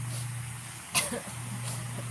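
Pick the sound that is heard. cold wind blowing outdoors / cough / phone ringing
cough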